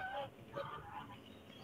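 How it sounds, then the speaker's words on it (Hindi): Several domestic ducks or geese honk and call in short bursts at a village bird enclosure, fairly close and moderately loud with no talk over them. "ये बदखियां हैं।"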